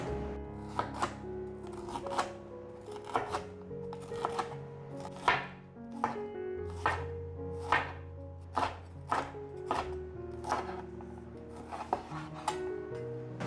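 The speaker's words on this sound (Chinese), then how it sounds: "把甜椒切条状。" A knife cutting a bell pepper into strips on a cutting board, a steady series of crisp chopping thuds at an even pace, close up with no talk.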